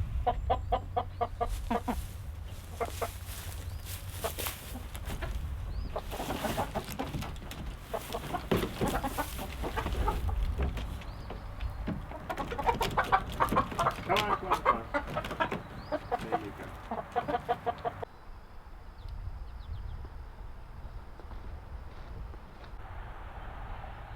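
Roosters clucking and squawking nearby on a homestead, busy and continuous, with rustling and movement throughout and a quieter stretch near the end.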